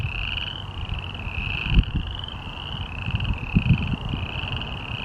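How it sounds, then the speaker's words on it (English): A dense chorus of small boreal chorus frogs trills steadily and continuously, many voices overlapping into one loud, rising-and-falling wall of calls. "Around here we have the boreal chorus frog subspecies."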